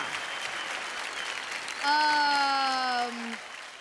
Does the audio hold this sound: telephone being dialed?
no